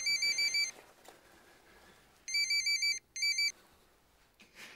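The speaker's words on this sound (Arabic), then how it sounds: "مش هترد على التليفون؟" A telephone rings in three bursts of rapid electronic trills, each ring cut off by a short pause, clear and fairly close in a quiet room with no talk over it.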